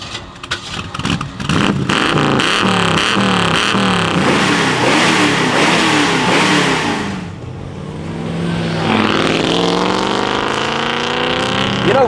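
A classic 60-year-old Ford Mustang with a V8 revs hard, the loud engine climbing through several sharp rises, then dropping away before building up again close by.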